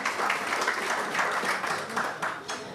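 Audience at a surgeons' speech event at an eye clinic applauds, a dense, steady round of clapping from a crowd that holds at moderate volume throughout without speech.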